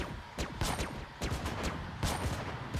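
Gunfire from a mobile shooter video game, with several sharp bursts and rapid volleys of shots cracking in quick succession at a fairly steady, loud level, with no talking.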